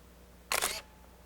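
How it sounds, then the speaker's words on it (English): One crisp shutter release from a Minolta Maxxum SLR film camera, a short mechanical clack-clack about a quarter second long, close up and alone against a quiet background. "To take a picture, brace your elbows against your body and slowly squeeze the shutter release."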